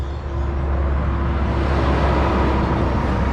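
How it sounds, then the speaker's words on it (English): Constant highway traffic hums in the background near rainforest, a steady broadband rumble with a faint engine drone and no voices. "You can hear the traffic in the background"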